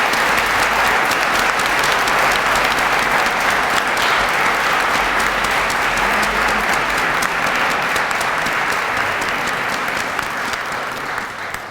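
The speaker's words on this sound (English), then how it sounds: "give all the members of the class of 1969 our biggest round of applause" A large audience at a college alumni achievement award convocation applauds the class of 1969, a dense, even roar of clapping that holds steady for about twelve seconds before easing slightly at the end.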